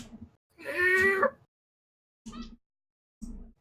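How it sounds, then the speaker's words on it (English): A cat meows in a drawn-out, wavering cry, then gives two short, quieter meows after pauses, close and clear against silence. "Hey, leave Pumpkin alone. Just fucking lazy ass cat."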